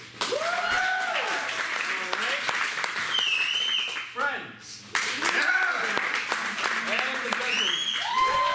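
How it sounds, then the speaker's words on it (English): Audience applause at a live comedy and music show in a distillery venue, loud and dense, with whoops and cheering voices riding over the clapping and a brief dip midway before it swells again. "Let's get some applause."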